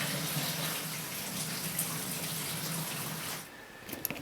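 Engine coolant draining from a Chrysler Caravan or Town & Country minivan, a steady rushing liquid stream pouring for about three seconds, then cutting off to near quiet with a few small clicks and drips.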